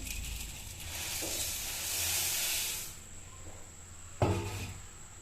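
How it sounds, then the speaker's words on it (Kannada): Steady loud sizzling and hiss of puffed rice frying in a pan for churumuri, swelling in the middle then easing, with a sharp metallic knock near the end. "ಪುರಿ ಕಮ್ಮಿ ಇಟ್ಕೊಂಡು ಎಲ್ಲ ಫ್ರೈ ಮಾಡ್ಕೊತಾ ಇದ್ದೀನಿ ಪುರಿ ಸೇರಿಸ್ತಾ ಇದ್ದೀನಿ"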